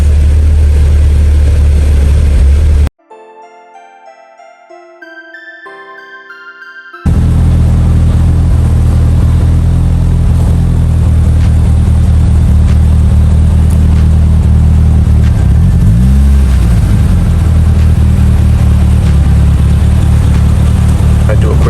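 A fully built Mitsubishi Evo X with 12,000 original miles runs loud and close on a dyno, a heavy steady idle that briefly drops away and then returns, with a voice speaking over it.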